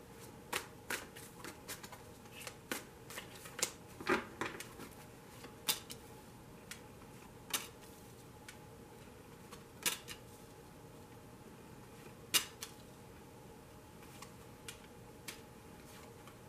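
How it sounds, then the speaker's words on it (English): Tarot cards are shuffled and laid out on a surface: quiet, close taps and soft slaps sound at irregular intervals over a faint steady background. "I will focus the camera in once I get the cards laid out."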